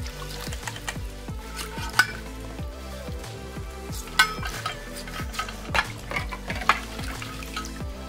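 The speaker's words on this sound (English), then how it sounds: "you can just go ahead and start washing your dishes." Dishes being hand-washed at a campsite, with steady soft clinks of cutlery and pots against a basin, light sloshing and scraping, and a few sharper metallic knocks over a continuous low rumble.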